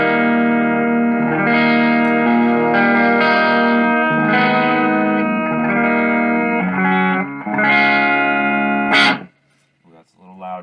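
An Ibanez electric guitar plays sustained chords and arpeggiated notes through the clean channel of a 1980s Ampeg V3 combo amp, loud and close, with a strummed flourish before the sound cuts off abruptly.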